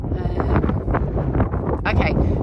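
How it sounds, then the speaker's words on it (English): Gusty wind blowing outdoors at a stone circle, buffeting the microphone with a steady low roar and rushing surges that swell and ease throughout. "it's getting really windy"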